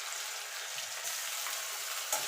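Panch phoron spices fry in hot oil in a pan with a steady bright sizzle throughout, close and fairly quiet, with a brief stir or clink near the end.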